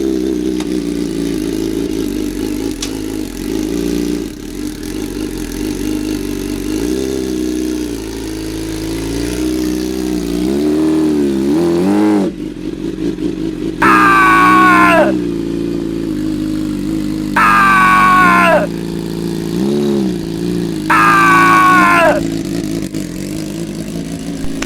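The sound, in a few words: Suzuki motorcycle engine revving as it is driven up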